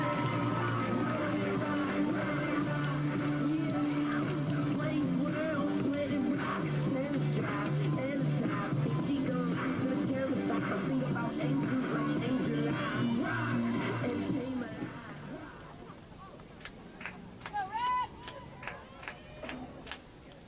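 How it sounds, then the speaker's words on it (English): A crowd shouting and yelling at a Keene State versus Colby-Sawyer college field hockey game, a loud, dense roar of voices that drops off sharply near the end, leaving scattered whistles and calls. "they are shouting up a storm down there"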